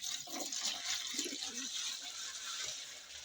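Water runs and splashes softly as a bath is prepared for pigeons, a faint continuous pouring wash with a few low gurgles.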